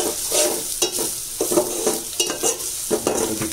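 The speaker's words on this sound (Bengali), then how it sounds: "আচ্ছা, এটা একটু ভাজা হোক এখন, আমি একটু নাড়াচাড়া করি।" Whole spices fry in a pan for a chicken and papaya curry while a spoon stirs them, giving a steady close sizzle broken by irregular scraping strokes, with no voices.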